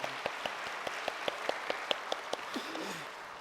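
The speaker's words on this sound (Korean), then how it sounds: "우리 같이 박수할까요?" A church congregation claps during a Sunday evening service, the claps landing in a steady, evenly spaced rhythm at moderate distance with no talking over them.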